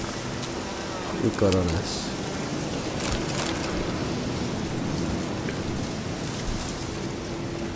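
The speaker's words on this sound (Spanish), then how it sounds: "el temporal que se está montando aquí, hay tormenta" Rain falls steadily during a thunderstorm in The Witcher 3, a broad hiss with a low thunder rumble, while someone talks over it.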